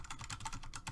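Rapid typing on a Corsair K95 computer keyboard swapped in for a Razer Huntsman Elite, a steady run of close, clicky keystrokes with no voices.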